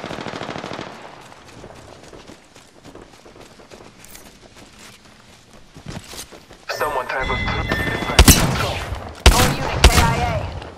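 Rapid automatic gunfire from a firefight in Apex Legends, quieter bursts at first then close, loud sustained volleys with sharp individual shots, while a voice talks over the action.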